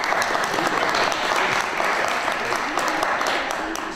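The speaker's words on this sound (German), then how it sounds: "Wenn Sie immer bei jeder Kleinigkeit klatschen" Dense, steady applause fills a concert hall at a brass band show in Bad Waldsee, a loud, continuous crowd of clapping hands with faint speech beneath.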